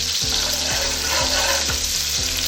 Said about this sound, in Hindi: इनको हम करते अच्छे से मिक्स। और जो है इनका अच्छे से कलर चेंज होने तक, गोल्डन ब्राउन होने तक हम इनको